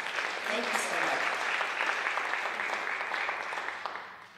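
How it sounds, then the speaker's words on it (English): Audience applause at a community college Hall of Fame event after a record fundraising total is announced, sustained, dense clapping for about four seconds that tapers slightly near the end. "I think that deserves an applause."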